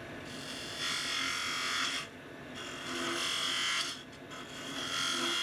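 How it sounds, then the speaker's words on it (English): A wood lathe spinning a single-piece yoyo blank while a big skew chisel cuts it round, a steady whirring hum with hissing cutting passes that swell and fade in short repeated strokes. "I'm just coming in with my big skew and just trying to get that round really nice"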